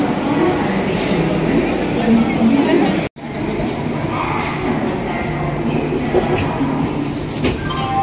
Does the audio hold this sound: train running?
yes